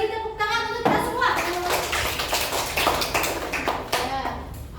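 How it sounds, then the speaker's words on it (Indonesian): A classroom of primary school children claps together, a dense patter of many small hands that continues steadily under a voice and some chatter. "Kita beri tepuk tangan untuk kita semua."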